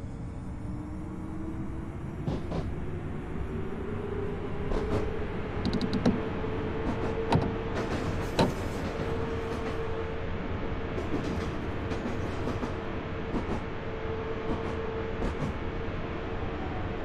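Train departing in the JR East Train Simulator game on the Oito Line, a steady loud rolling rumble with a rising motor whine and occasional clatter and clicks throughout, no talking.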